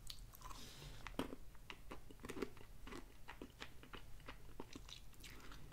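Crunchy biting and chewing of Trader Joe's mini gingerbread men cookies, close and quiet, with repeated crisp bites and steady mastication throughout and no talking.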